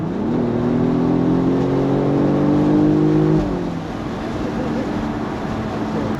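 Mercedes-Benz E300 petrol convertible accelerates hard from traffic, the engine note rising steadily for a few seconds before easing off into a lighter cruising hum with wind and road noise, heard from inside the car.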